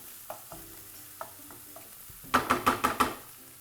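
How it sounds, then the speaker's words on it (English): Small diced vegetables sauté in a pan, a quiet sizzle punctuated by a few soft taps, then five quick sharp clinks of a utensil against the pan near the end. "We're just going to saute these for 2 to 3 minutes."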